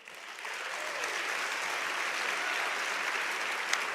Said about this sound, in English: That certainly deserves a big hand of applause.